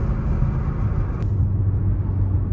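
An 850hp BMW M5's engine and exhaust give a steady, moderate low drone from inside the cabin while driving, with no talk.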